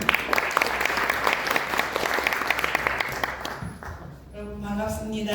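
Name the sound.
audience applause welcoming a speaker at an opening ceremony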